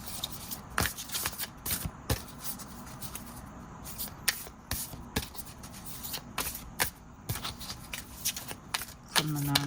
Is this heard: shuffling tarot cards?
yes